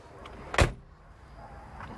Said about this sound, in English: Doors close good.